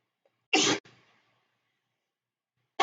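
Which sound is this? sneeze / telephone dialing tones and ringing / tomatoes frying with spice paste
sneeze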